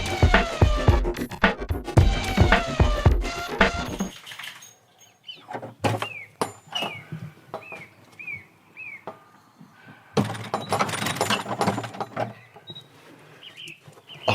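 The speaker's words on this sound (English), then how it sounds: "That was the sound of the door to Phil's closing, an old wooden door, an old Welsh barn." An old wooden door on a Welsh barn swings shut, with a series of short creaking squeaks followed by dull knocks of the heavy door settling closed, heard alone in a quiet space.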